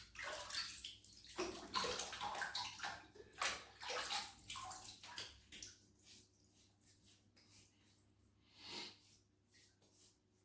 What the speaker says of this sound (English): Okay, let's wet the face.